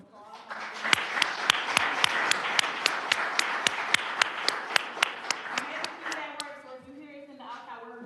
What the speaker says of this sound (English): So if we can just give her a round of applause.